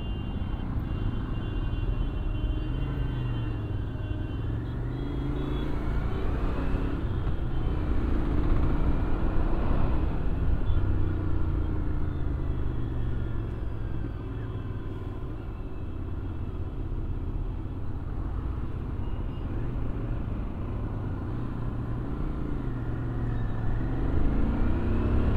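Steady road traffic and engine rumble while riding a GT650 motorcycle through city streets with cars and auto-rickshaws, a continuous droning wash of passing vehicles throughout with no talk.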